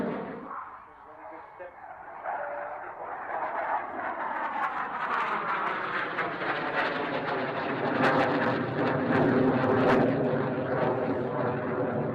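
A Saab J29 jet of the Swedish Air Force historic flight roars past, its engine noise swelling from a distant rumble to a loud, broad sustained roar with a shifting pitch.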